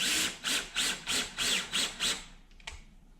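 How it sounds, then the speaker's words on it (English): A power drill drives a double-threaded screw into wood in about seven close, loud bursts of whirring, each stopping briefly before the next, then a few small clicks as it finishes. "Shove them into the drill"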